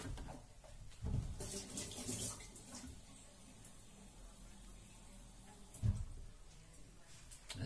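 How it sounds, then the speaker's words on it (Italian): Water pours into a cooking pan of rice, artichokes and potatoes, a soft steady splashing stream with a couple of louder knocks, fairly faint and with no talking. "Ora mettiamo un po' d'acqua."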